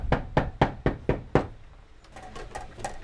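Sharp knocks on a door, six loud raps in a quick uneven series, then a few softer taps trailing off, close and with no talking.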